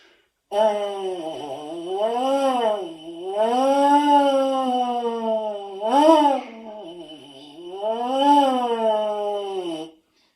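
A buzzing brass-like tone of baritone lip buzzing slides smoothly up and down in pitch in repeated swooping waves, with brief pauses between phrases, no talking.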